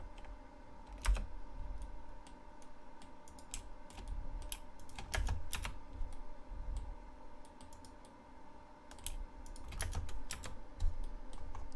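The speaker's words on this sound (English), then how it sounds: "Hit the space bar, type in bridge." Computer keyboard typing during 3D modeling work in Blender, with irregular bursts of close, crisp key clicks over a steady low background hum and no talk.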